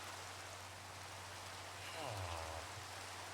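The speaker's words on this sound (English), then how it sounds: "While we're up here, can we sleep the rain away?" Steady hiss of rain falling in the video game Minecraft, a constant broadband wash with a brief low tonal sweep near the end and no speech.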